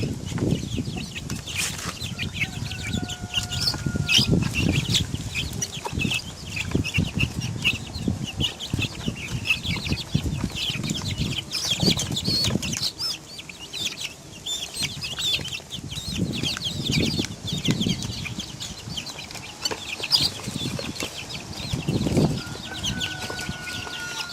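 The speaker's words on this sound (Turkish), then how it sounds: "gördüğünüz gibi kurkumuz da yiyor, çivcivler de yiyor" Chicks and a turkey feeding together, with steady clucking, soft peeping and occasional wing flaps, close by and continuous over a busy farmyard background.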